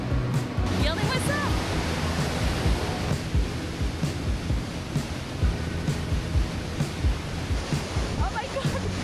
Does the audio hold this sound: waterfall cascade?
yes